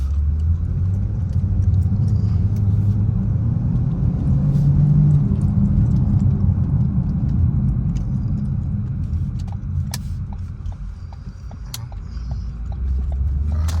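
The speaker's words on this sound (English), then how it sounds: "Test drive through the trenches." A car on a rough test drive through trenches: a loud, steady low rumble of engine and road noise, with scattered rattles and clunks as it rolls over the uneven ground.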